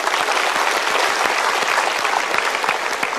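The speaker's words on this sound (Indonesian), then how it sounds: "kita berikan tepuk tangan" A television studio audience on a motivational talk show bursts into close, loud applause, a thick and steady clatter of many hands clapping with no voices over it.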